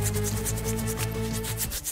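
Foamy scrubbing in a Pou-style pet-care video game: rapid rhythmic rubbing strokes, close and loud, over a soft game music tone throughout.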